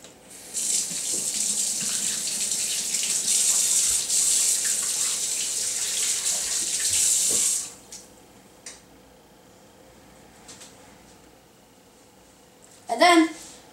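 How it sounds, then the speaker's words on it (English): Hands are washed under a running kitchen tap before tuna melts are made, a steady close gush for about seven seconds that then cuts off, leaving quiet handling noises and a brief clatter near the end. "First, wash your hands."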